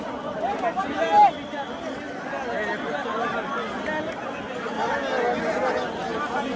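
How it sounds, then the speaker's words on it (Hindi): A huge crowd of devotees fills the Grand Road at the Rath Yatra in Jagannath Puri, a dense, continuous babble of many voices, loud and close, with a brief louder shout near the start. "रथ खींचना चालू हो गया था और भीड़ बहुत ही भाई बहुत सुपर भीड़ है"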